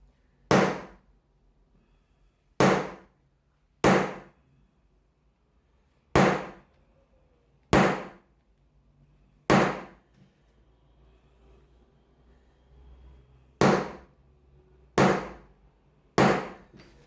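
A hammer strikes metal in a crafts class, nine sharp separate blows spaced a second or two apart, each ringing briefly then fading, with quiet gaps between and no talking.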